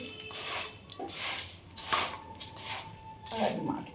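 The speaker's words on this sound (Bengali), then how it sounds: "দেখো মুড়ি মাখছি" Puffed rice being mixed by hand in a bowl for jhal muri, making rustling, scraping crunches in uneven bursts, with a voice present in the background.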